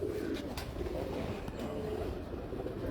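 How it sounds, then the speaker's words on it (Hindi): A plain rooftop pigeon cooing softly among a steady background rumble, with a few faint soft coo notes near the start and middle. "अब ये सिंपल से कबूतर है"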